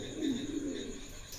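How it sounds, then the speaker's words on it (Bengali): Soft, low pigeon cooing rolls in a couple of murmuring phrases, close by, with a faint steady background hiss. "দেখার মতন কবুতর একটা, ভালো লাগলে অবশ্যই নিতে পারেন।"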